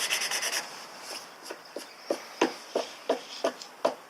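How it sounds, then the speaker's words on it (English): Hand-sanding a cured Solarez resin ding repair on a surfboard, the abrasive rasping in a quick flurry of strokes, then about ten separate short rubbing passes spaced roughly every third of a second, close and fairly loud. "So now we've sanded this back down nice and smooth to the shape of the board."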